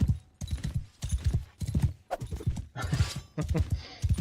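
Rhythmic clip-clop of horse hooves trotting in a steady beat in the video game Bannerlord, close and clear, with brief gaps between bursts of steps.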